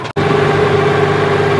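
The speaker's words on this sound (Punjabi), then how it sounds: "ਲਓ ਜੀ ਫਾਈਨਲੀ ਜਿਹੜਾ ਕਿ ਟਰੈਕਟਰ ਜਾਨੀ ਕਿ ਬੂਮ ਆਪਣਾ ਪਹੁੰਚ ਚੁੱਕਿਆ ਖੇਤ ਤੇ" A farm tractor pulling a boom sprayer arrives at the field, its engine idling loud and close with a steady low drone and a sustained tonal hum, following a brief cutoff at the start.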